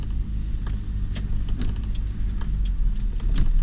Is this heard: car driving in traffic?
yes